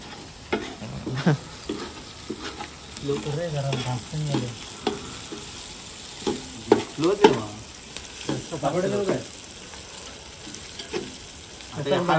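Chicken frying in a pan during an outdoor cooking party, a steady sizzle with stirring scrapes under frequent nearby talk.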